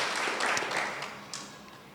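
A church congregation applauds during a Spanish-language service, with a dense wash of clapping that fades slowly over two seconds. Faint voices mix in underneath.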